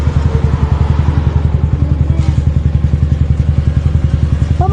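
A motorcycle engine runs close and loud with a steady, fast rhythmic throb that holds even and unbroken throughout.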